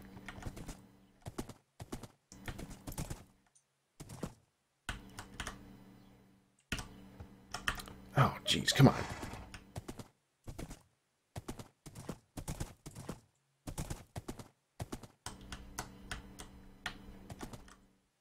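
Hoof clip-clops from a horse in the Minecraft video game, a series of short, sharp, fairly close taps in irregular bursts with brief gaps between them.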